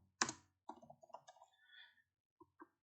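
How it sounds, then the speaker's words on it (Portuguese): Mouse clicks and keyboard typing on a computer, one sharp click followed by a short burst of quick, close keystrokes and two final taps in a quiet room. "eu posso clicar em qualquer ponto aqui da janela de visualização e digitar o texto que eu quiser aqui"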